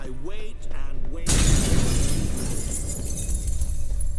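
A mirror shatters in The Witcher 3: a sudden loud burst of breaking glass cuts in after a brief stretch of voice, followed by a long, bright trail of tinkling shards and rumble that slowly settles.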